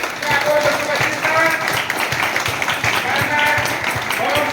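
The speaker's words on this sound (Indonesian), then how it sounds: "tepuk tangan untuk Tuhan Yesus" A church congregation claps hands together at a children's Sunday school Easter service, a dense, steady patter of many palms under singing voices and music.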